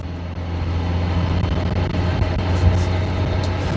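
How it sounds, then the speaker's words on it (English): A loud car engine drones steadily with low rumble and road noise while driving uphill, heard from inside the vehicle, with no talking. "because my car is very loud"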